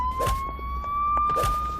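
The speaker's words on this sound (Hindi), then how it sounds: "मैंने मोबाइल खोला और उसमें पुलिस सायरन की रिंगटोन बजाने लगा।" A phone plays a thin electronic police-siren ringtone, its steady whining tone sounding alone, with a couple of faint low thumps in the background.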